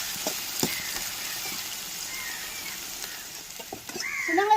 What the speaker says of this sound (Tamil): எண்ணெயிலே வெள்ளைப்பூடி வெங்காயம்லாம் வதங்கி வரட்டும்